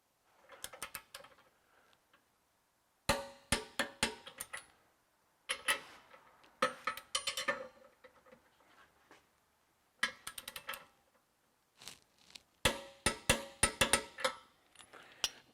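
A torque wrench tightens the bolts of a heavy-duty kingpin adapter on a trailer, making sharp, rapid ratcheting clicks in close bursts separated by short pauses.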